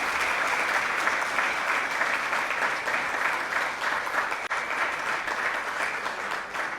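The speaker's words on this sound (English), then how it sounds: "I would like you all to give a big round of applause to our eminent panel for being here." Sustained applause from an audience at a bank's digital launch event, thanking a panel at the close of a discussion, steady and dense throughout with no talking over it.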